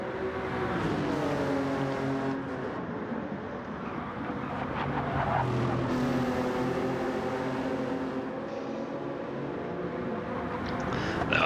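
A Gr. 3 class racing car engine in a video game race at Atlanta roars steadily throughout, its pitch rising and falling as it revs through gears, loud and continuous.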